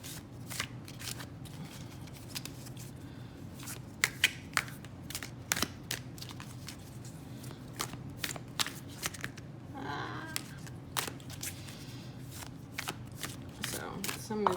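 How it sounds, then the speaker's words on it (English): Thin, glossy tarot cards being shuffled by hand, with repeated riffling and sliding bursts and sharp snaps spread through the stretch, under steady low background noise. "Let's do a little shuffle."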